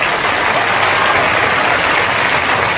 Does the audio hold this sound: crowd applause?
yes